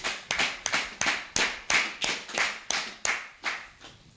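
A church congregation bursts into applause after a scripture reading, a dense wash of many hands clapping in steady rhythmic waves, close and lively, with no talk over it.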